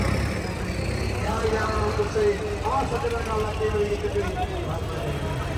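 A John Deere tractor readied for a trolley-pulling contest runs with a steady, continuous engine rumble, close and fairly loud, while people talk over it.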